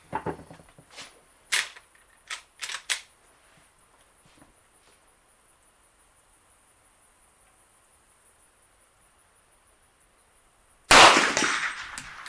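A Henry Big Boy casehardened lever-action rifle in .357 Magnum fires at an outdoor range, several sharp loud reports spaced unevenly early on, then a long quiet gap and a final loud burst of noise near the end.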